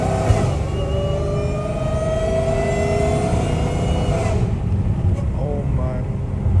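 An 800hp Dodge Challenger Hellcat Redeye pulls hard with a loud, close engine roar whose pitch climbs steadily over several seconds, then cuts off abruptly near the end; a voice speaks briefly over it.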